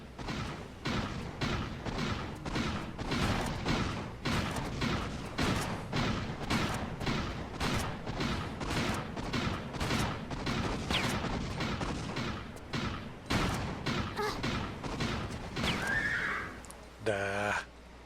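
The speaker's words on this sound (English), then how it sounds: "grab out the shotgun, and take care of him" Repeated shotgun blasts in a Tomb Raider level editor game set in Venice, a rapid rhythmic series of sharp, loud bangs across the whole stretch, with a brief tonal game sound near the end.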